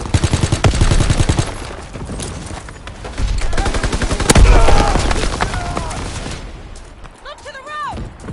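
Gunfire in a World War II video game rattles in rapid machine-gun bursts and single cracks, loud and close, mixed with shouted battle voices and a sharp impact midway.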